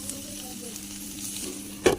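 Potatoes frying in a home kitchen pan give a steady, soft sizzle throughout, with a sharper clatter near the end, no voices over it.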